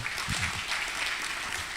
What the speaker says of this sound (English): Please, a big round of applause for